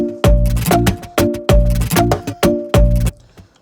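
Korg PA5X arranger keyboard running the Shape Pop style: a punchy full-band groove with heavy kick, snare hits and sustained chords, repeating in a steady four-beat pattern, loud and close, with no talking.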